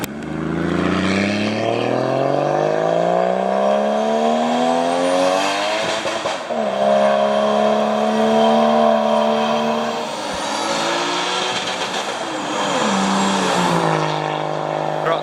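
A sedan with an external wastegate revs up and accelerates away, pitch climbing through several gear changes, with a sharp wastegate whoosh and flutter riding over the loud exhaust roar.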